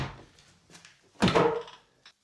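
Door lock and handle tested after the lock is reinstalled: a faint rattle and click, then a louder close clunk of the latch and handle working, followed by a short final click.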